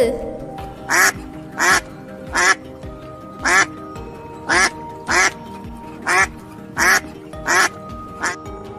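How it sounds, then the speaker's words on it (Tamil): A duck quacks in a regular series of about ten loud, evenly spaced calls against a low background hum. "வாத்து"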